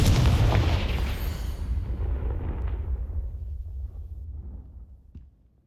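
A fiery Confringo spell blast from Hogwarts Legacy, a loud booming explosion that starts at full force and then rumbles and fades away over several seconds, with a small crackle near the end.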